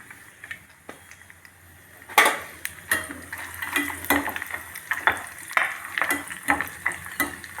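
Cashew nuts being fried in a pan, with metal utensil scrapes and clinks against the pan over a soft background sizzle, irregular stirring strokes growing busier after the first couple of seconds.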